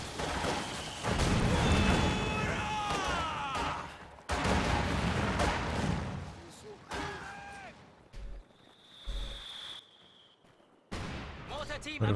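Double mortars in a strategy game fire and burst amid a busy fight, with repeated thuds, crashes and gunfire at uneven intervals, and a commentator speaks through most of it.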